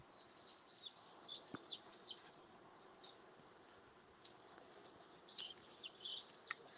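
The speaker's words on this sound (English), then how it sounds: "It's so quiet. Only birds." Birds sing and chirp in a quiet outdoor place, with bright, faint tweets scattered over a soft background hiss and no voices.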